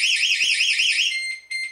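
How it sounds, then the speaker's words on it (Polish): A TECHNISMART alarm system siren, set off by a motion sensor, wails loud and close in a steady rising-and-falling warble, then cuts out and gives two brief chirps. "wykrycie jakiegoś ruchu przez któryś z czujników, zobaczcie, powoduje uruchomienie się alarmu"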